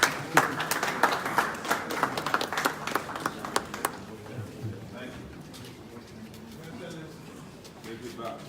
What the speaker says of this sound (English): We will clap for him, please